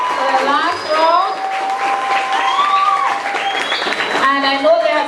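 A crowd applauds students at a reef week trivia event in San Pedro Town, Belize, with sustained clapping mixed with voices and cheering that carry through the clapping.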